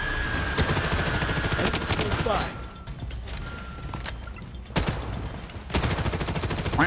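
Kar98 bolt-action rifle firing in the shooter game Blood Strike, sharp loud shots with pauses between them, mixed with other gunfire and game noise, with a person talking excitedly over it.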